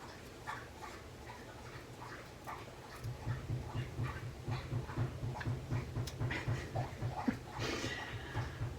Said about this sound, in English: It's one of my dogs scratching, and their foot is hitting the floor.